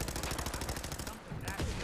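Gunfire in Fallout 4 comes as a rapid, loud run of automatic shots pounding steadily, with a brief gap and then one more burst at the end.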